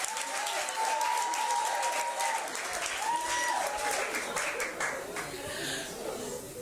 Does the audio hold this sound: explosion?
no